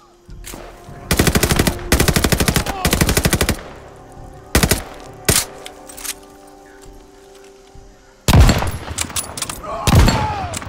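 Rapid automatic machine-gun fire in the World War II shooter Call of Duty: Vanguard comes in three loud, sustained bursts, then a few sharp single shots and scattered gunfire, before another dense volley near the end.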